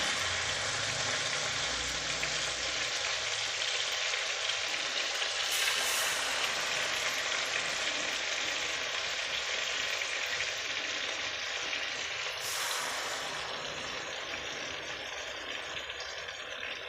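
Chicken pieces fry in butter in a hot kadai, a steady, close sizzle with crackling hiss that runs unbroken throughout, with no voices.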